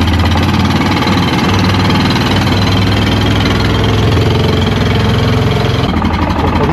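An ATV quad bike engine runs close and loud, a steady throbbing rumble that rises slightly as gentle throttle is applied.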